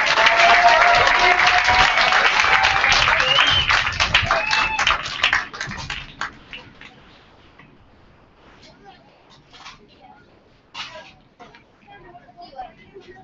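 Crowd applause at an Alaska Goldpanners versus Mat-Su Miners baseball game, honoring the Palmer Little League team during a presentation: loud, dense clapping for about five seconds, then thinning to scattered claps and quiet.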